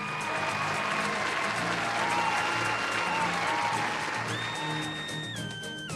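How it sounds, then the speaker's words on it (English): An audience at a national party convention applauds, a dense, steady wash of clapping that holds for several seconds, with a faint sustained tone running beneath it. "Everybody, give a big round of applause for Sour Rabbit."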